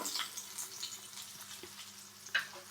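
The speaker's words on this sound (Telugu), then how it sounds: "పచ్చిమిరపకాయలు కొంచెం వేగాయి కదా వెంటనే మనం కరివేపాకు వేసుకుందాం కరివేపాకు కూడా వేగాలి కొంచెం క్రిస్పీ అయిపోవాలి" Green chillies and curry leaves frying in oil, a faint, quiet crackle and sizzle with a couple of small pops and light clicks.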